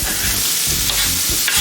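Herbs fry and get stirred in a hot pan alongside a chorizo omelette, a steady close sizzle with a few scraping stirs.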